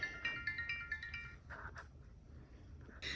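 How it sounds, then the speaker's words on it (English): A phone ringtone chimes in a kitchen while green beans cook, a faint repeating electronic melody followed by a couple of clinks, with no voices. "And of course I got a phone call."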